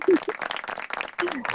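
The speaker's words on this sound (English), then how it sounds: "Please welcome with a big round of applause to her." A brief burst of audience applause on a talk show welcoming a guest, quick clapping mixed with voices and some speech over it.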